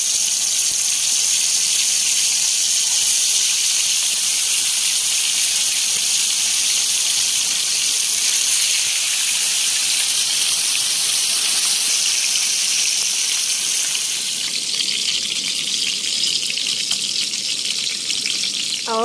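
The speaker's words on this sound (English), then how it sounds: "So I'm just going to deep fry this" Marinated rabbit fish deep frying in hot oil for a Kenyan-style stew, a steady loud bubbling sizzle that holds evenly throughout, shifting slightly in texture near the end.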